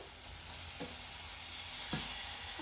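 Peas sizzle quietly in a pan as tomato is added, a steady faint frying hiss broken by two short stirring scrapes.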